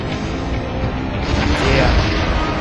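A missile detonates in the SpyHunter Nowhere To Run video game, a muffled boom rising out of a steady rumble of engine and action noise, heard close and moderately loud.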